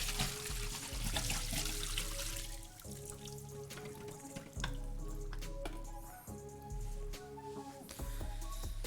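Water poured out of a photo film developing tank into a sink, a steady splashing stream with dripping and clattering handling noises, close and fairly loud throughout.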